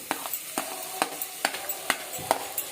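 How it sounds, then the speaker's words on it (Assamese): Ingredients frying in a pan for Assamese-style boot dal, a soft sizzle broken by a regular run of sharp spatula scrapes and stirs, roughly three or four strokes a second, close and with no talking. "এইখিনি মই আৰু 5 মিনিটমান ফ্ৰাই কৰিম গেছটো বঢ়াই লৈ পেলাই"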